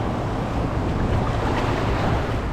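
Ocean waves washing onto a beach in Cancun, a steady broad roar of surf with some wind rush, continuous and fairly loud with no voices.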